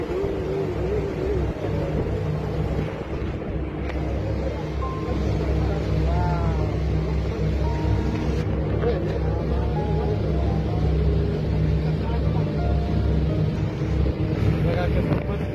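A motorboat in the Maldives rides over choppy water, its engine a constant loud drone with wind rushing across the microphone, while someone talks over it.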